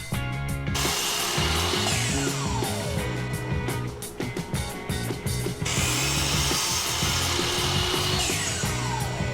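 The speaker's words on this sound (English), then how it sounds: "First step is to cut the legs for the table, and I'm going to use 2x2s for this." A miter saw cuts 2x2 wood table legs, loud whining motor bursts with the blade biting through the wood in two repeated cuts, with rattling and clunks in between.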